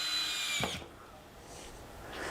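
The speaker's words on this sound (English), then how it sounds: "So we'll just screw them all on like that through the handle now" A power drill drives screws through a drawer handle, giving a short whirring burst that cuts off after under a second, followed by quiet room sound.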